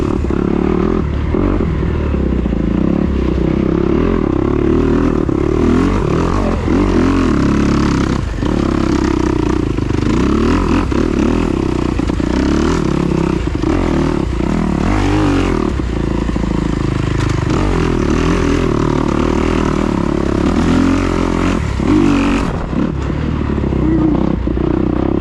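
A 2021 Kawasaki KX250XC dirt bike ridden on a rough off-road trail, its engine droning loud and steady throughout with repeated revving surges, clatter and scrapes from the terrain close by.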